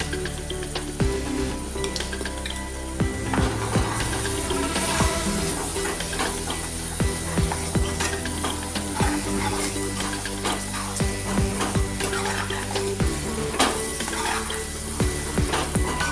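Green masala paste fries with golden-browned onions in a pan for a village-style chicken curry, a steady loud sizzle with scattered clinks and scrapes of stirring, close up and continuous, with no talk.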